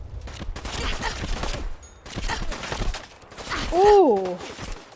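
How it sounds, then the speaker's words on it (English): Gunfire from many enemies in the Fallout 4 video game, a dense fusillade of overlapping shots running throughout, loud and close, with a voice talking over it and a rising groan near the end. "So many people shooting me, bro."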